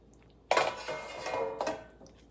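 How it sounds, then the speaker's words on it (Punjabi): Ground flaxseed and jaggery being stirred in a pan, with a loud scrape and clatter of a utensil against the metal, then a steadier stretch of stirring and a second sharp knock near the end. "ਇਹਨੂੰ ਆਪਾਂ ਹਲਾ ਦੇਣਾ ਮਿਲਾ ਦੇਣਾ ਇਹਦੇ ਵਿੱਚ ਗੁੜ ਨੂੰ ਤਲਸੀ ਨੂੰ ਚੰਗੀ ਤਰ੍ਹਾਂ ਮਿਲਾ ਦੇਣਾ ਹੈਗਾ ਆ"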